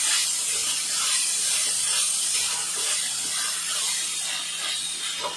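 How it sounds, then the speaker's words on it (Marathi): Grated carrot sautéing in melted ghee in a pan, a steady, dense sizzling hiss that holds evenly throughout with no voices. "गाजराचा किस असं परतून घ्यायचा आहे"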